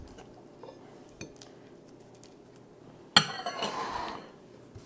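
A utensil scoops potluck cornbread out of a dish, starting with a few faint clinks and taps and ending in a sudden louder scrape and clatter against the container.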